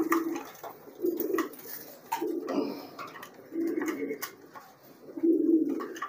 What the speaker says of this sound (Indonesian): Oh, ini merpati saya ke sini kenapa ini?